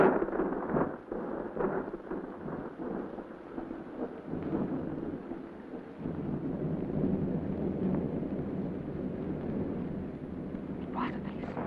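A thunderstorm sound effect for a radio drama: steady heavy rain hiss and low rolling thunder rumble throughout, with no one speaking.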